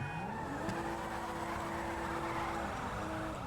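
In GTA 5, car tires squeal in a long, wavering screech over steady engine roar. The sound is loud and close and runs unbroken for several seconds.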